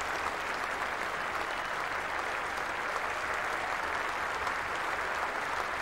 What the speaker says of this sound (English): Loud applause around the ground